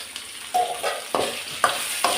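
Onion and tomato with salt being sautéed in a pan for a home lunch dish, with a steady sizzle broken by several distinct stirring scrapes and clinks of a spoon against the pan at close range.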